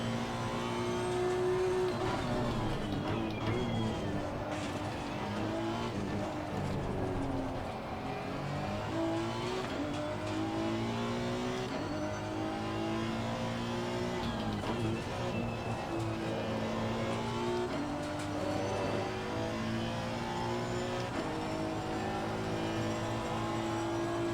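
A race car laps Zandvoort circuit, its engine howling and shifting pitch through repeated acceleration and braking, sustained and fairly distant with no talk over it.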